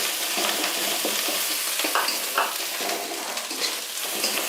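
Ground coriander and chili powder spices fry in a hot pan, a steady close sizzle broken by irregular stirring scrapes, with no talking.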